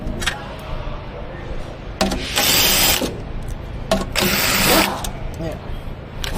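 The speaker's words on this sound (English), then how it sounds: "I need to use the drill machine in order to make it" A drill machine runs in short bursts while load-testing a large kVA transformer, its whine rising over a steady low electrical hum, with clicking mechanical sounds in between.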